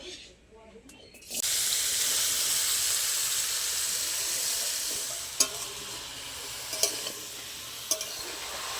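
Bottle gourd dropped into hot mustard oil in a home kitchen bursts into a loud, steady sizzle after a brief quiet start, with a few sharp clinks of a utensil against the pan later on.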